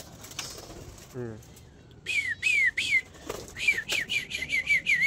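Red turtle doves kept as pets call in short whistled, cooing phrases near the microphone, following a brief burst of louder voice-like sound.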